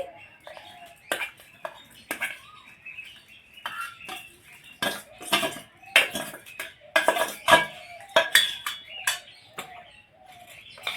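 Fried soybean chunks spooned into a tiffin box, with repeated clinks and scrapes of a utensil against the container in irregular bursts, close and moderately loud, with faint bird cooing in the background.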